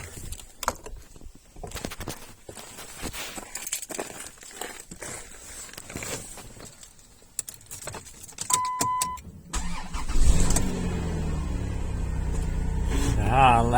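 A car engine cranks and catches after a jump start from a booster; there are quiet clicks and handling noises first, then the engine starts and settles into a steady idle nearby.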